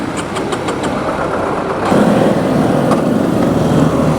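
A motorcycle engine catches and settles into a steady running rumble after a brief rough start, loud and close with no voices.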